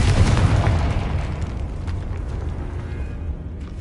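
A Confringo spell blast in Hogwarts Legacy, cast at a barricaded archway: a loud, deep boom right at the start whose rumble slowly fades over a few seconds.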